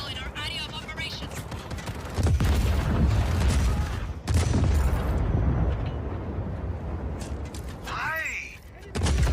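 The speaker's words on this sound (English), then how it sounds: "The explosion, the gunfire, it's unnerving." Heavy gunfire and booming explosions erupt in the Just Cause 4 video game around an armored train, with loud rumbling blasts and sharp bursts layered with mechanical clatter and voices.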